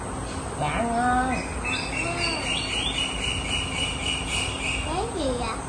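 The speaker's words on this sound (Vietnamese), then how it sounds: "Con chim kêu á." In a garden, a bird repeats short, bright chirping calls in bursts over a steady background hiss, with a long, thin whistled note stretching through the middle.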